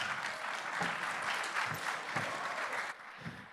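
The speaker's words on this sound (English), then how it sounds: "Please give Alex a big round of applause." An audience at a tech hackathon opening ceremony in Istanbul claps steadily for a speaker coming on stage, a dense wash of applause that drops off near the end.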